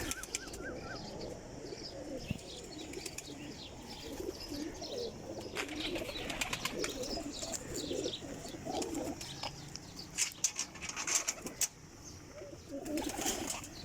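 Inside a pigeon loft, many birds coo in overlapping low murmurs. Brief bursts of flapping wings and sharp chirps rise over the continuous cooing, clustering near the end.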